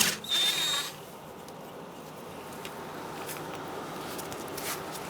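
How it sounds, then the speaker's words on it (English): A power tool with a 10mm socket briefly whirs, removing the speed sensor bracket bolt on the front strut of a 2010-2013 Kia Soul, followed by quiet ratcheting and handling sounds. "Remove your speed sensor bracket bolt on the side of your strut with a 10mm socket."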